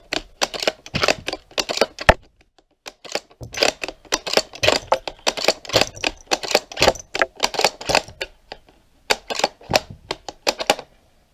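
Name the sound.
magazine clicking into Ruger AICS rifle conversion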